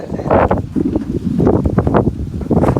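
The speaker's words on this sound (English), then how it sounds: "Oh, it's windy." Gusty wind buffets the microphone in rumbling, uneven bursts, with rustling noise throughout and no clear voices.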